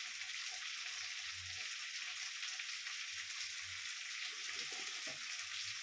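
Capsicum, carrot and beans fry in a pan for chow mein, giving a steady, dense sizzle that runs throughout with faint low stirring bumps beneath it.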